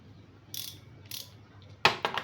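Ratcheting clicks from a socket wrench handle out of a 46-piece socket set: a short faint burst, another soon after, then a louder, sharper rattling run of clicks near the end, close up with no talk.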